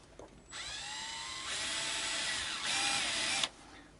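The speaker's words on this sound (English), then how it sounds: "Okay, so I'm going to screw this back in." A powered screwdriver drives a screw back into a Squier Bullet hardtail Strat guitar: a whining motor runs for about three seconds in a few steps of shifting pitch, then cuts off, with no voices.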